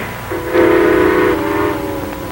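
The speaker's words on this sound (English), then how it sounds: "Trainloads of this vital mineral are shipped daily." A freight train horn sounds one long, steady, loud blast over the rumble of rail traffic, fading slightly toward the end, in 1940s Texas.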